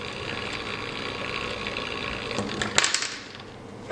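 A simple homemade brushless motor with a hand-adjusted coil and magnet runs with a steady, close mechanical whir and buzzing hum, followed by a few sharper rattling clicks before it settles.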